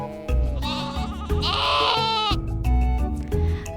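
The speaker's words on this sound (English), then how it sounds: "I see a woolly sheep looking at me." A sheep bleats in a wavering, drawn-out call, answered by shorter bleats, loud and close, with no talking over it.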